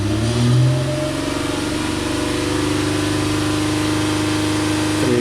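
A Nissan Murano with a low-power complaint revs up under light acceleration, its engine tone climbing steadily and holding a loud close drone throughout, with no talking.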